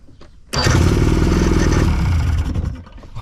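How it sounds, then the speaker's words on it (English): A boat outboard motor on a budget boat under repair catches and starts abruptly, then runs loud and steady with a rough, clattering roar close by before the revs drop near the end. "The motor runs."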